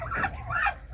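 A chicken's brief pair of clucks, close and clear, over faint background noise in a farmyard where ducks are also kept.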